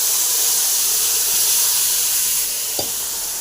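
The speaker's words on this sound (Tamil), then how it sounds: "அது கடுகு பொரிஞ்சிச்சிங்க. இந்த துவையலை போட்டுடலாம்." Thuvaiyal paste drops into hot oil with popped mustard seeds, giving a loud, steady close-up sizzle and hiss with a brief clatter near the end.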